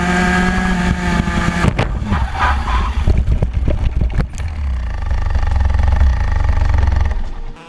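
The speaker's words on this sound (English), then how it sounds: "My worst ever crash happened in 2016 when I was still in Minimax." A go-kart crash in a Minimax class race: steady loud engine drone, then a burst of sharp impacts and scraping clatter midway, after which the engine noise carries on at a lower, rumbling level.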